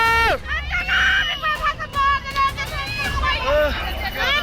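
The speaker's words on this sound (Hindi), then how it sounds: "तबाही के इस मंजर का वीडियो बना रहे लोग सिर्फ चीखते रह गए" People filming the destruction from a cloudburst in Dharali, Uttarkashi, scream and shout in a loud, frantic crowd, with high cries and overlapping voices over a background rumble.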